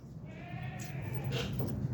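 Goat bleating on a farm while being caught and held for bloodless castration, a couple of short wavering cries over steady low rustling and handling noise.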